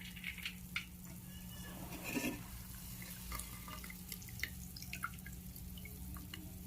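Water drips and trickles from soaked puffed rice being squeezed out by hand in a kitchen, a soft, close, irregular patter of drops over a steady low hum.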